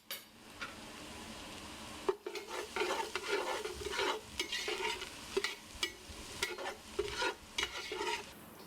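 Onion and garlic frying in a pot for Pakistani chicken pulao, with steady sizzling and repeated stirring scrapes and clinks of a utensil against the pan, close and clear.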